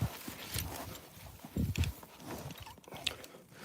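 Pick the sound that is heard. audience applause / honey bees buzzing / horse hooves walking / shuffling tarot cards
horse hooves walking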